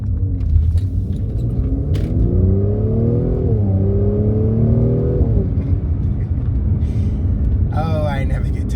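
A Mercedes C43 AMG accelerates in sport mode, its engine note rising and sweeping up through revs with a deep rumble from inside the cabin, then settling; someone speaks near the end.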